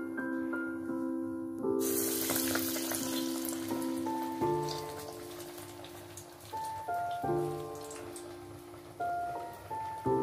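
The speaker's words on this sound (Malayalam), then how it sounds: "ഇപ്പോൾ എണ്ണ നല്ലോണം ചൂടായിട്ടുണ്ട്. ഇനി നമുക്ക് ഓരോന്നായിട്ട് നമുക്ക് ഈ വടകൾ വറുത്തെടുക്കാം." Banana flower parippu vada dropped into hot oil, a sharp sizzle bursting in after a quiet start and crackling on steadily beneath soft tonal music.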